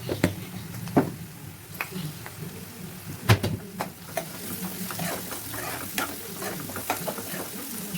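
Potatoes and onions fry in a pan for a spicy Telangana-style potato fry, with turmeric and salt added, giving a crackling sizzle dotted with sharp clicks of stirring against the pan, close and continuous.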